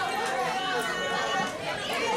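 Crowd at a wrestling arena shouting in a dense, continuous roar of many voices, loud and close, filling the short stretch without pause.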